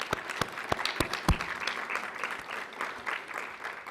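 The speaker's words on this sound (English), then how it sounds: "Let's give them a round of applause." An audience applauds at a nurse pinning ceremony, a steady wash of many hands clapping at moderate distance, with a few sharper nearby claps standing out early on, continuing evenly for several seconds.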